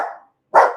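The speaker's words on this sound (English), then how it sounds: "hold on, I got to get rid of this dog." A pet dog barks twice, loud and close indoors, with a short sharp bark, a brief silence, then a second fuller bark.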